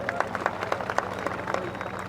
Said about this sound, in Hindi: श्रीमती कुसुम देवी जी के लिए जोरदार ताली आप लोग बजाइए